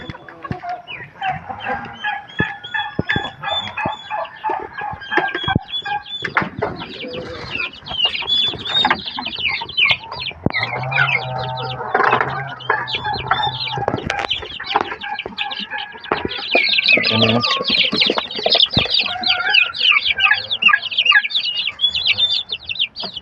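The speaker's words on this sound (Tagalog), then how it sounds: "Yan yung mga sisiw" Chicks and hens cluck and peep steadily in a backyard poultry yard, a busy layered chorus of close fowl calls with occasional louder squawks.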